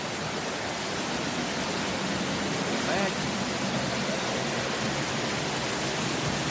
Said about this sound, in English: Now we're fixing to walk behind the falls.